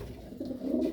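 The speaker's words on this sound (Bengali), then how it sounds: "এটা খুবই ভালো একটা কবুতর।" Pigeon in a loft giving a short, close, low coo that swells over about a second.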